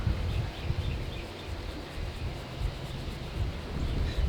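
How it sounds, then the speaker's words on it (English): Gusty wind buffets the microphone outdoors, a low rumbling roar that swells and eases steadily throughout, with no voices. "A little windy out here."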